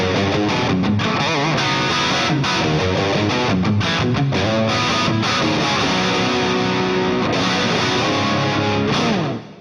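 Electric guitar licks are played clean, with no Rocktron distortion pedal engaged, as a run of quick melodic notes and bends that stay loud and close throughout before cutting off.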